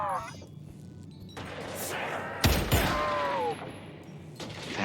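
Gunfire in the Pavlov VR zombies mode shooter, with a burst of bursts and loud shots close by amid chaotic game noise, while a person talks over it.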